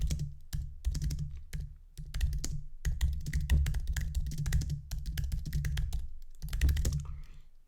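Someone types quickly on a computer keyboard, a close, crisp run of clicking keystrokes in uneven bursts with a few short pauses between flurries.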